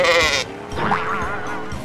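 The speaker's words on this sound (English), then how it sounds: "A sheep says baa." A sheep bleats loudly with a wavering, drawn-out baa, followed by a second fainter, rougher bleat trailing off.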